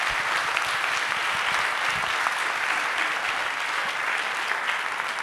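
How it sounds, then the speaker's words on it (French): Sustained applause from a conference audience after a talk on France's most violent tornadoes: dense, even clapping that holds at a steady level from start to finish, with no voices over it. "On peut de nouveau, je pense, les applaudir parce que c'était très complet."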